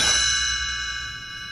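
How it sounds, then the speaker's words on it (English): A single bright chime rings out clearly, its shimmering tone sustaining and slowly fading with no talking. "You will know it is time to turn the page when the chimes ring like this"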